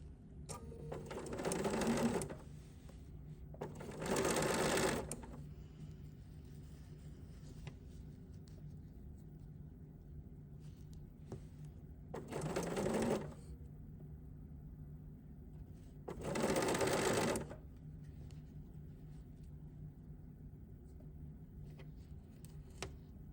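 A Bernina sewing machine fitted with a #38 piping foot stitches in four distinct bursts of a couple of seconds each, a steady whirring hum that starts and stops between pauses of quiet motor idle, heard close and alone.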